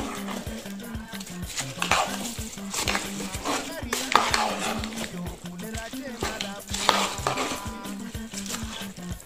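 A spoon scrapes and churns through a fish pilaou mixture in a pot, making repeated rhythmic scraping strokes close by, with steady background music running underneath.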